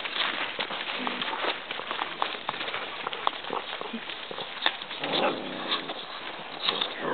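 Basset Hound puppies scuffle and patter about, with soft whimpers and yips mixed into the steady rustling of play.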